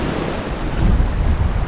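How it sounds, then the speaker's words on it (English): Strong wind buffets the microphone at a Florida fishing inlet, a steady low rumble mixed with surf washing nearby, growing heavier through the second half with no voices. "Still a beautiful day, just a windy day."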